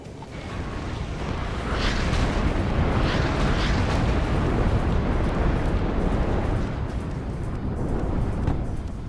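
Precision howitzer artillery shells exploding in the WARNO war game, a continuous dense rumble of blasts and booms, loud and sustained with no talk.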